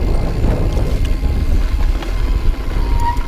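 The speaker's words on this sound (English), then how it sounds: "It's a little windy up here." Gusty wind buffets the microphone at the top of a mountain bike descent in Whistler, a loud, continuous low rumble that swells and eases throughout with no speech.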